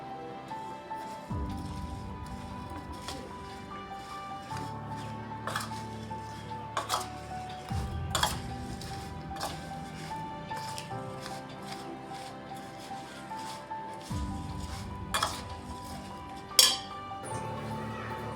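Green chillies for a pickle are mixed with lemon juice in a bowl, making soft squishing and rubbing sounds at close range, punctuated by sharp clinks of a spoon against the bowl.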